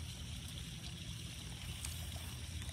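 A spring on old family land trickles steadily, a soft, continuous watery hiss that is faint and even, with no voices over it.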